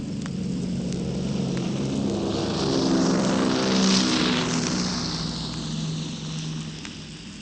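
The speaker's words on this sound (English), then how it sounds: "That's a Super Constellation, quite a rare visitor to London Airport these days, and its piston engines make it something of an odd man out among the jets" Lockheed Super Constellation airliner with piston engines passing at London Airport, a steady droning propeller roar with a harmonic hum that swells toward the middle and eases off, heard alone without talk.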